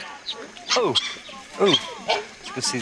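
Puppies yip and bark in short, high, excited bursts, one after another and close by, in an African setting.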